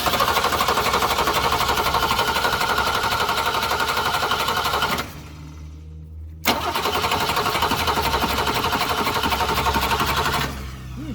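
1966 Ford Mustang engine cranking without starting, a loud rapid rhythmic starter churn that pauses briefly, then resumes and stops again.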